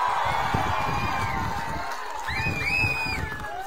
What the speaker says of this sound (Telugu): గట్టిగా చప్పట్లు కొట్టి హర్షాన్ని ఆమోదాన్ని తెలియజేయాలి